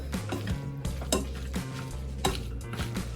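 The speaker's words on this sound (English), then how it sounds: "We're going to add in about a tablespoon of parsley to the noodles. And mix that up in there." Fettuccine noodles being tossed with parsley in a pan, giving soft scraping and clinking of a utensil against cookware with a faint sizzle, in steady stirring strokes over low background music.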